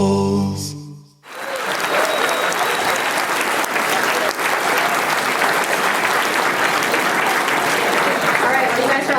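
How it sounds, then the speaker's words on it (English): Loud, sustained audience applause fills a hall after a short comedic parody performance, beginning abruptly after a brief quiet moment and continuing steadily throughout as a dense wash of clapping with some cheering. "you guys are all clapping and laughing"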